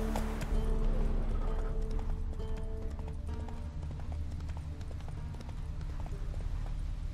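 Horse hooves clip-clop in a steady galloping rhythm across the whole stretch, close and prominent, over a low rumbling bed, in The Witcher 3 video game; a faint whinny may rise briefly, with no talking.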